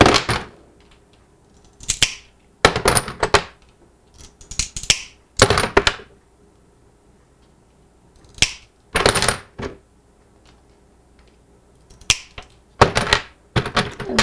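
Cutting material for a mosaic stepping stone, sharp separate snips and clicks in irregular bursts with quiet pauses between, close and alone.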